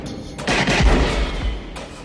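Gunfire from a 90s female-led thriller film scene, a loud burst of booming shots with rumbling low-end reverberation, followed by a second sharp report near the end.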